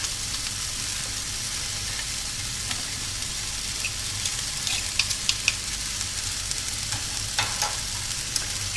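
Mushrooms and vegetables sizzle steadily in a frying pan as a garlic clove goes in, with a constant close hiss and a few sharp crackles and spatters partway through, and no voices.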